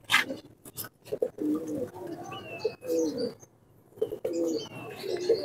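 Red tamry pigeons coo repeatedly in soft, throaty bursts, close by, with occasional chirps and faint wing flutters between calls, without any talking.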